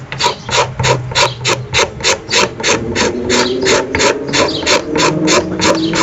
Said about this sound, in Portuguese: A raspilha é uma ferramenta para você raspar, né? Você vai raspando até remover madeira.